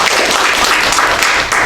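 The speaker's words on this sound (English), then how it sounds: "Give yourselves another big round of applause." High school students applauding together in a gymnasium or hall, a dense, loud, continuous roar of many hands for the full moment.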